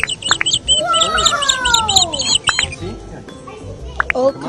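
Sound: birds chirping at the zoo

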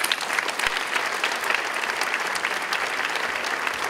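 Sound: audience applause at a gala

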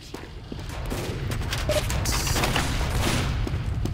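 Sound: gunfire in video game Team Fortress 2

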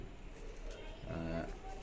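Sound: pigeon cooing

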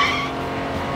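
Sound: cartoon race car tires skidding out of control

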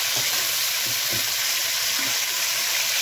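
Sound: sliced pork heart frying in a pan

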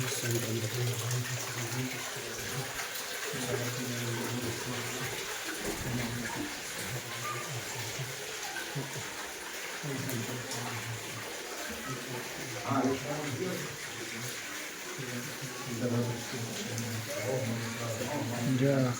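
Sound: Godavari river water flowing from its source spout

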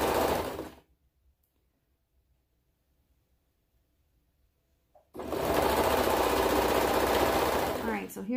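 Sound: serger sewing around a toddler hoodie

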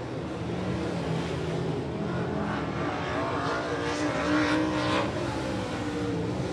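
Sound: race car running laps during speedway qualifying

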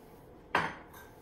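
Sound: diced apple being added and mixed into muffin batter

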